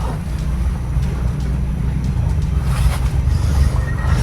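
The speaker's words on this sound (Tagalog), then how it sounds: "May mga motor mga ito." Low, steady motor drone of motorboats arriving, a continuous rumbling engine hum at moderate distance with no talk over it.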